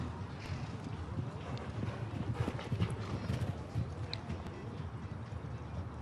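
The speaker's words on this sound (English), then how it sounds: "No, it's Open Polilla, one of his old ponies." Polo pony hooves thud in a rapid galloping rhythm on a turf field during a polo final, steady and fairly close, with wind buffeting the microphone throughout.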